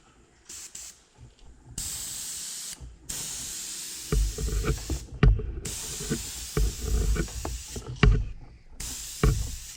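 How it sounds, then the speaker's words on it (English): An airbrush sprays Wicked Jet Black paint onto a 13-inch grandma trolling lure blank in light passes, giving a steady close hiss that starts and stops in several short bursts, with clicks and handling noise in between. "we're going to go this way with the airbrush, but we're not going to do it really hard, just going to do really light"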